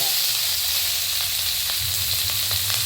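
Shallots and green chilies hit hot coconut oil in a pan, producing a loud, continuous, close crackling sizzle that holds steady throughout.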